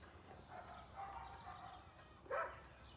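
A neighborhood dog barking in the distance, faint yips and a single louder bark near the end over a low background hum.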